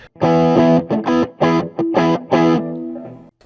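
Electric guitar through a Tube Screamer pedal playing a short riff of chords and single notes, mid-heavy and crunchy, loud and alone with no talking.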